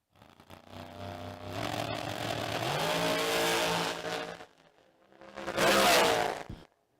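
Drag racing cars launch down the strip at a Spring King of the Creek event, one engine revving hard and roaring away, then a second loud burst of acceleration close by.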